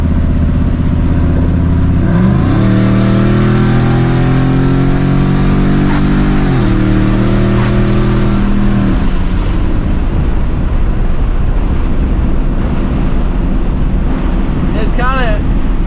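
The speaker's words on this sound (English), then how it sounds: "we might as well enjoy the busted out mufflers while we have them" Loud 2013 Mustang GT V8 revving up through busted, unmuffled exhaust, pitch climbing in pulls before dropping back to a raspy, crackling idle, recorded close.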